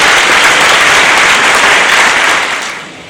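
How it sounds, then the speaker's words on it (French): Loud, dense applause from an audience at an association inauguration fills the room without pause, then begins to fade toward the end, with no voices on top. "On applaudit bien fort, s'il vous plaît."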